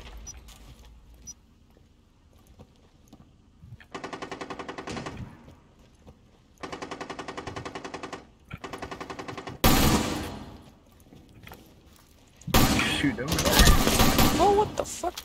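Automatic gunfire in the Rainbow Six video game, several rapid bursts with gaps between, then sharper, louder close shots near the end, with players talking in between.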